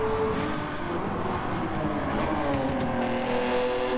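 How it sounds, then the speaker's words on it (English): A 1973 Nissan GTR race car, a battered but healthy coupe with its engine firing on all cylinders, roars steadily at speed in a seven-lap sprint race, loud and sustained with rising and falling engine tones throughout. "Car looking like it's got a few bumps and bruises, but it's still firing away on all cylinders"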